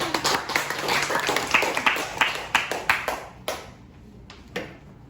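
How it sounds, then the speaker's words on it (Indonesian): A classroom of students claps together, a run of sharp, fairly loud claps in a quick rhythm that thins into a few scattered final claps and then quiet. "Tepuk tangan."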